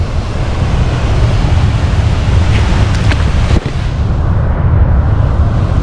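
Sumampan Waterfall in Bali roaring as a continuous broadband wash of falling water, loud and steady, with wind buffeting the microphone and a short dip and crackle partway through.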